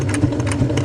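A sewing machine back stitches over the original stitching on a Panacea 2 tent seam repair, running in a short, steady burst of fast, even mechanical whirring close by.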